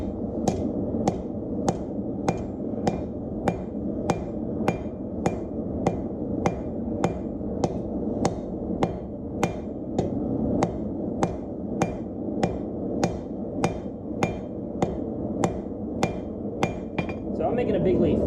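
A hammer steadily forges metal into a leaf shape, striking in an even rhythm of roughly two blows per second for the whole stretch, each hit a sharp ringing clang over a low background hum, with no talk.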